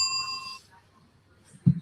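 A single bright bell ding ringing out and decaying over about half a second, followed by quiet and a dull thump at the end.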